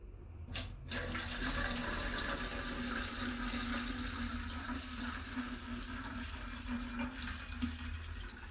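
Water pours steadily into a small 1-litre plastic spray bottle, a continuous filling rush with a faint rising tone, starting after a brief knock and running unbroken to the end.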